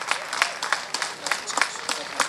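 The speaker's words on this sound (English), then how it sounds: "So a big round of applause." Crowd applause at an evening community family fun fair concert, brisk and continuous clapping from many hands with uneven, crackling peaks throughout the short burst.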